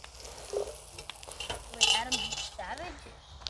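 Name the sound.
asparagus sautéing in cast iron Dutch oven over campfire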